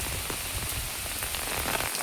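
Steady rain pours down outdoors in a monsoon downpour, a dense continuous patter of drops striking surfaces at close range, loud and unbroken throughout with no voices.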